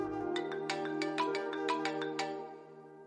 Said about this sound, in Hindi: नफीसा का फोन